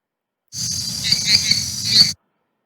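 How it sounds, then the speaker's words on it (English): A short burst of shrill, trilling croaks with a buzzy, insect-like quality, starting and stopping abruptly. "Then select Jungle Frog sound."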